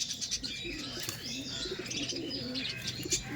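A male pigeon of the Madras breed coos in a low, repeated rolling pattern close by, with bright chirps from other birds over the top and a brief flutter of wings.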